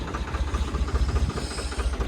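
A low, chugging tractor engine idles nearby with a steady, pulsing knock, loud and continuous throughout.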